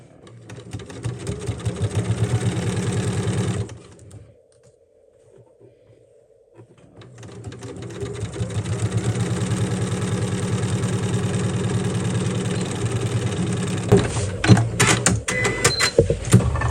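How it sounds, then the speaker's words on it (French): A sewing machine runs in steady bursts stitching along the zipper of a fabric pouch, pausing once for a few seconds before resuming at a constant close, loud hum. "vous allez pouvoir remonter le zip et continuer de coudre"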